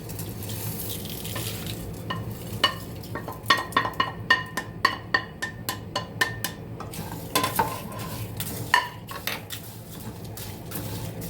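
Garlic chutney powder ingredients fry and get stirred in a pan: a soft steady sizzle with a rhythmic run of sharp spoon-on-pan scrapes and clinks, close and moderately loud, with no talk.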